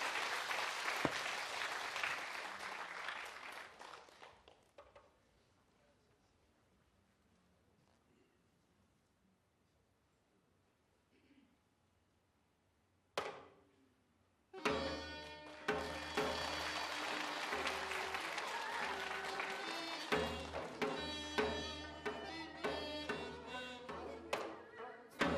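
Audience applause at a traditional Korean music concert: a burst of clapping that fades into near silence, then a single thump, before loud instrumental music starts and carries on.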